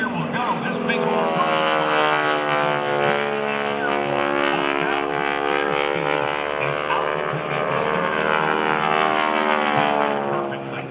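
A Blue Angels jet flies a dirty roll with its landing gear down at an air show, its engine roar loud and sustained, with pitch sweeping up and down as it passes, and a voice talking over it.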